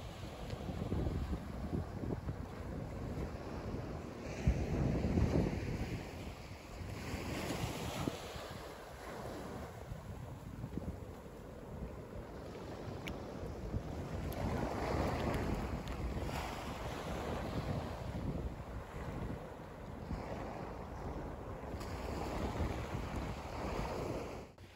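Beach on Sanibel Island with steady surf and waves washing ashore under gusty wind buffeting the microphone, a continuous mid-level roar with swelling wave surges and no voices.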